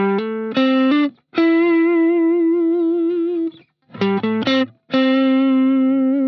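Electric guitar played through a distortion and reverb effect, with short phrases, sustained ringing notes and tails that decay between bursts, loud and close with no talking.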